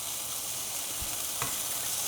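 A blade steak sizzles in a pan of olive oil, a steady, close crackling hiss with a couple of soft knocks from moving the meat, and no talking.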